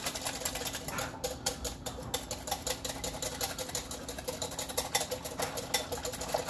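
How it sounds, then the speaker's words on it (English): One whole egg is whisked hard in a bowl, making a quick, steady run of light clicking and scraping strokes that stay fairly faint and continue throughout. "I'm just whisking the ever-loving shit out of it so I can make sure that the albumin from that one whole egg is still there"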